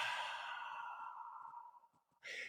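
A long, slow exhale is demonstrated as breathing into the corners of a room, a soft close breath that fades out and is followed by a short sharp intake.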